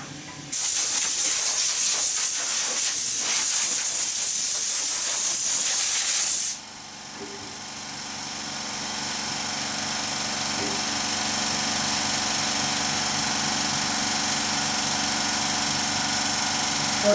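Power sanding of a wooden shaving brush handle: a loud, steady, hissing broadband rush runs for about six seconds, then cuts to a quieter lingering whir and hum.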